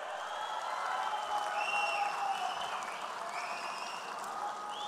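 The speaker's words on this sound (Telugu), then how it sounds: "గట్టిగా చప్పట్లు కూడా చెప్పాలి" A large political rally audience bursts into sustained applause, a dense wash of clapping that swells and holds for several seconds, heard from some distance with faint crowd noise beneath.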